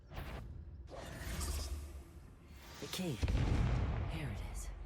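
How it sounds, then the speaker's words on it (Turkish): A muffled explosion booms in the background of a Hogwarts Legacy game scene, mixed with mechanical creaks and clanks, while a voice talks over it. "Arka tarafta bir şey patladı."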